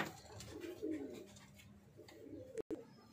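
Soft, low pigeon coos repeat quietly over a faint background, with a brief dropout near the end.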